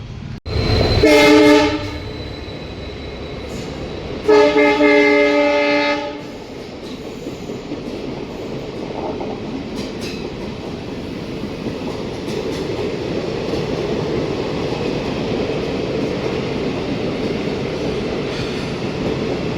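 A train horn sounds twice, long and loud, then a steady rumble and clatter of a train rolling past nearby at Lalaguda Tukaramgate railway station.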